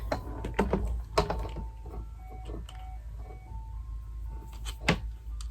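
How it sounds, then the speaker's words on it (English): An ice cream truck passing outside plays its chiming jingle, a thin melodic tune carried from a distance, heard alone while scattered knocks and handling clatter sound up close. "the ice cream truck is here"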